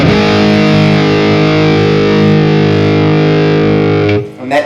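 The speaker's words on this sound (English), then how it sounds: "We'll turn the gain right up so you can hear how much gain it does have." An electric guitar runs through a Bogner 3534 with the gain turned fully up, a loud, thick, heavily distorted sustained chord ringing steadily before cutting off near the end.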